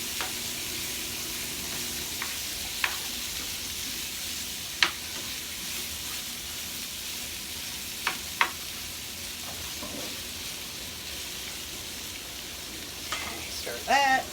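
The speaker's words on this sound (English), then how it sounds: "you can come over here and stir this a little." Cabbage, sausage and rice cooking in a pot, stirred with a utensil: a steady frying sizzle runs throughout, with a few sharp scrapes and clinks against the pot and a brief louder clatter near the end.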